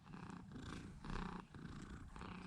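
A pet cat, a smoky grey female, purrs steadily on her owner's shoulder, a close, low rumbling drone that swells and dips with each breath over about two and a half seconds, with no talking.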